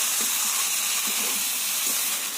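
Fried prawns drop into a potato and pointed gourd masala, a continuous loud sizzle and spitting hiss filling the whole moment, with small bursts as the pieces go in.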